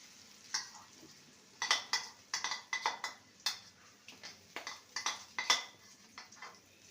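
Liquid semolina mixture stirred in a pan over a low flame for laddu, a spoon scraping and clinking against the metal in irregular bursts of sharp taps, close and alone without speech.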